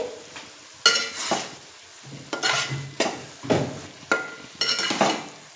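Chicken frying in oil in a pan with onions, tomato, green chillies, ginger-garlic paste and cumin, for a curry. Repeated bursts of stirring and scraping ride over a low sizzle at a steady rhythm. No one talks.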